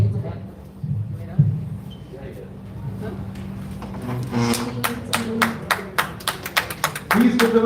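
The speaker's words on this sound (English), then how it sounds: "Please give them a big round of applause" An alumni event crowd at an amphitheater night begins clapping partway through, building into a rhythmic patter of applause after a stretch of low murmuring chatter and a voice talking.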